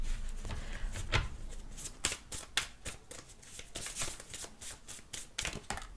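Tarot cards being shuffled by hand before a monthly horoscope reading, a steady run of crisp riffling bursts up close with no talking.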